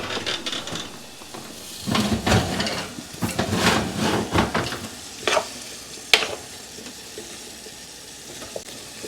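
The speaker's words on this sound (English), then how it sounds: "Okay, we have our veggies roasting." Vegetables roasting for broth under an oven broiler give off crackling sizzle and irregular pops and clicks, rising and falling in bursts, fairly close and without talk.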